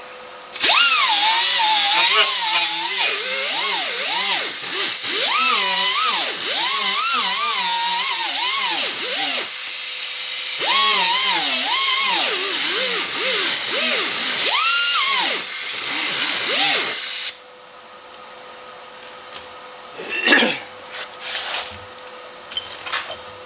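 An angle grinder with a cutting disc whines loudly and steadily, pitch rising and falling as it bites into metal while building a cab corner, then it cuts off leaving a quiet room with a few faint knocks.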